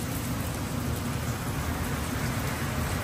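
A dense, unbroken roar of heavy rain falls during a typhoon's landfall around a chicharon factory, loud and constant throughout with no voices over it.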